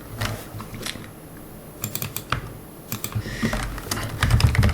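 Close, brisk typing on a computer keyboard, with irregular bursts of sharp key clicks that grow denser and louder toward the end.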